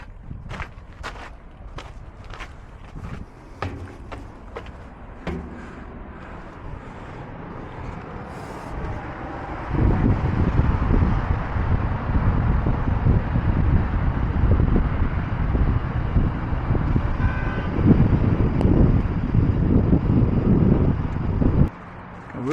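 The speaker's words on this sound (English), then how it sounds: "it's also very nice and windy up here because it's very hot, so it can cool down a little bit." Steady wind rushes and buffets the microphone on an exposed hilltop at an old Byzantine-era fortress, gusting louder in the second half, with faint footsteps scattered early on.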